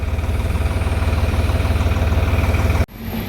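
A tractor engine idles close by with a fast, even, throbbing low rumble, then cuts off abruptly near the end of the clip.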